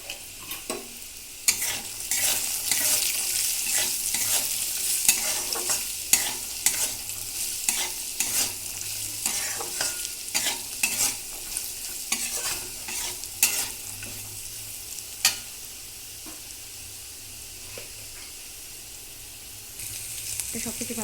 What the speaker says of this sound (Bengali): তো সব কিছু ভালো করে ভাজা হয়ে গেছে।